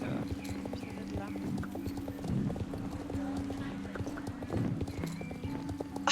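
Horse hooves clip-clop steadily in the Star Stable Online video game, a continuous rhythmic trot over ambient game sound, with a voice talking over it and a brief whinny-like call near the middle.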